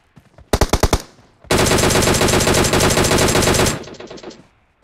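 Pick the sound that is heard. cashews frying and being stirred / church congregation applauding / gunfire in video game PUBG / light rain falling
gunfire in video game PUBG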